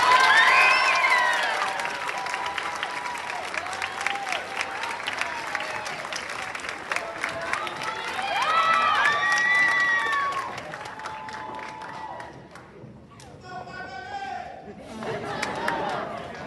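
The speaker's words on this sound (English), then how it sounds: "I'd love for you to give a round of applause to" Lively applause and cheering from an audience at a school culmination ceremony, with dense clapping, high excited whoops and shouts rising and falling, briefly dipping before swelling again.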